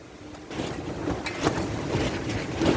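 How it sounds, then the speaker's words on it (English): Gusty wind blows outdoors during work on a 1998 Dodge Dakota's rear air suspension, a broad, rumbling roar buffeting the microphone that picks up after the first half second and stays loud throughout. "Aiming across, it's windy today."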